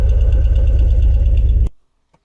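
A Zhiguli car engine idles roughly and misfires close by, a loud uneven pulsing rumble that cuts off abruptly, leaving near silence.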